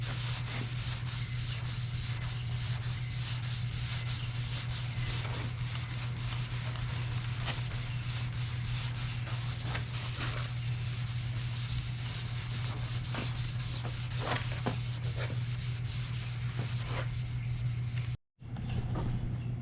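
Light block sanding of body filler on a wrecked car body panel: a continuous scratchy rubbing stroke that runs steadily and close, with a brief pause near the end.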